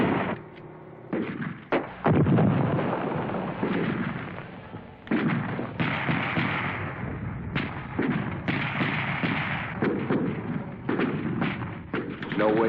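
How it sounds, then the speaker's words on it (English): Gunfire in a Vietnam War battle scene from a 1965 war film, with Viet Cong raking a field with bullets while a platoon is pinned down; dense, loud bursts of shots and thuds run throughout, mixed with other battle noise. "The Viet Cong are plowing the field with bullets."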